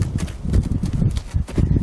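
Horse hooves thudding on the ground in a horsemanship session as the rider brings the horse to a stop, a rapid uneven series of close, heavy footfalls.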